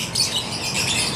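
Several canaries chirp and twitter rapidly in high, bright tweets, overlapping busily at close range.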